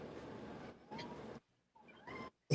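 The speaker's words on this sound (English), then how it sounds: "Cute cat." A cat meows in a few short bursts, broken by brief silences and mixed with breathy, wind-like noise.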